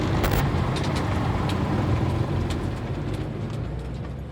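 A car pulls out of the Daikoku parking area and drives off, its engine and road noise steady and close throughout, with faint traffic in the background and no talking.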